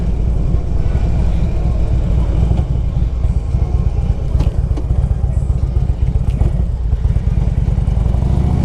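A 2002 Harley-Davidson Electra Glide Ultra V-twin runs loud and close with a steady, throbbing rumble and mild throttle swells, and faint talk beneath the engine.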